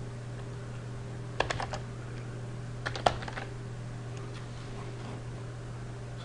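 Computer keyboard keys clicking in two short, quick clusters of taps, light and close, over a steady low background hum.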